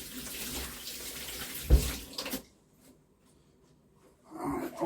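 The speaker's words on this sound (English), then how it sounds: "let me wash my hands, get this flour off." Running tap water splashes over hands being rinsed of flour in a home kitchen, steady for about two seconds with a splashy peak, then cutting off to near silence before faint handling noises return.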